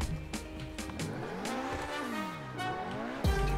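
An Obey 10F widebody sports car in GTA 5 Online accelerates hard, its engine note rising and falling through gear changes, close and loud, with tire squeal and no talking.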